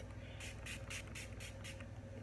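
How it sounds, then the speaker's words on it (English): Urban Decay All Nighter setting spray misted onto a face in several quick, crisp hissing bursts in a steady rhythm, close and distinct over a low background hum. "I'm going to use the Urban Decay All Nighter setting spray, and I'm just going to mist my face"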